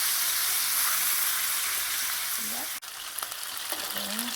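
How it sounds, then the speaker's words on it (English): Onions fry steadily in a pan for a chicken cacciatore, a dense continuous sizzle and crackle with a brief stir or scrape near the end and faint background sounds. "I'm going to give it a little bit till the onions brown"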